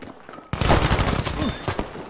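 Anti-aircraft flak fire in Battlefield V breaks out suddenly into a dense, loud rattle of overlapping shots and blasts that continues for a couple of seconds, with a voice faintly mixed in.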